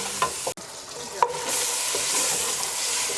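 Bacon fries in olive oil in a pot with a bright, close sizzle, a couple of sharp clatters as it goes in, and then a steady hiss that grows louder, with no talk.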